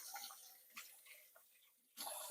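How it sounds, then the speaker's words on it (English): Hands being washed under a running tap in a home kitchen while making meatballs, a faint steady rush of water with soft splashes and shifting flow, swelling louder near the end. "wash my hands thoroughly"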